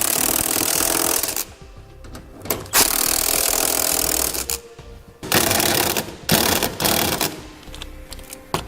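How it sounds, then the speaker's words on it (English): Ratchet driving a 17mm socket to tighten trailer hitch bolts on a 2012 Toyota Highlander, loud close buzzing runs of rapid pawl clicks broken by short pauses and a few sharp clacks. "We can now go back and tighten down all of our hardware using a 17mm socket."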